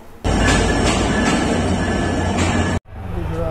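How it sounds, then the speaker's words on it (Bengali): The Panchagarh Express pulls in at a station platform, a loud steady rumble of wheels and carriages with a high whine, cutting off abruptly before a quieter hum resumes. "প্ল্যাটফর্মে বসে থাকতে থাকতে ট্রেন চলে আসছে"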